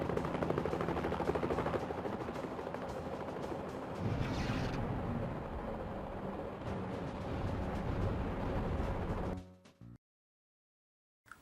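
Dense, loud action din of rapid gunfire and rumbling helicopter noise from the video game Mission: Impossible (N64), going on nonstop before cutting abruptly to silence.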